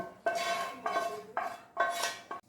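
A metal utensil scrapes and clatters against a pan in four or five short bursts, close by, as fried vegetables go into rice, with brief quiet gaps between strokes and no talking.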